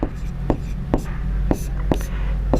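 A Class 10 trigonometry solution being written out by hand, heard as a series of sharp strokes and taps roughly every half second over a steady low hum.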